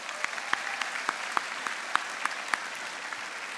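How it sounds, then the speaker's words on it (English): Moderate applause from a crowd at a college convocation, steady clapping with a few sharper claps standing out, somewhat distant and soft. "Please give yourselves a round of applause."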